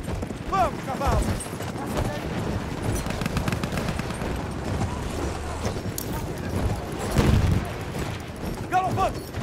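Horse galloping in the World War I shooter game Battlefield 1, rapid hoofbeats under gunfire and distant explosions, with a short whinny at the start and end while someone talks.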